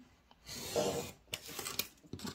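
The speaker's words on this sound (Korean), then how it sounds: "사각형 이쪽을 자를까요?" Scissors cutting a leftover paper square into a pentagon, with a rough, crisp rasp and snipping nearby, a longer cut followed by a few short ones.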